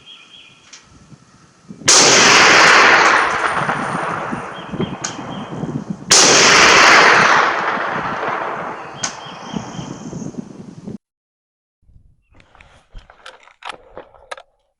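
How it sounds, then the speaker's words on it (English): Three sharp rifle shots from an Inland M1A1 carbine, loud and close, the blasts coming at about two, six and nine seconds with ringing decay after each, then near silence with faint rustling. "Alright, that's 3 rounds."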